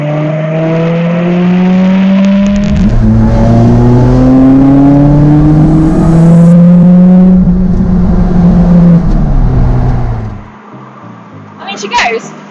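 A Lotus Elise sports car accelerates hard and close through rising gears, the engine note climbing and dropping with each shift before cutting off abruptly, followed by a brief clatter.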